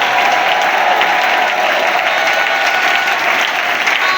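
A church congregation applauds during a Sunday worship service, a loud, dense wash of clapping that holds steady and close from start to finish.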